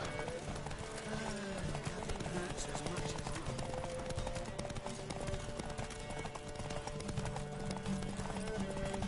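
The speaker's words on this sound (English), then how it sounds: "Don't spare the horse." Steady clip-clop of galloping hooves in a fast, even rhythm over a constant bed of music and ambient noise, with an occasional whinny, from the video game The Witcher 3.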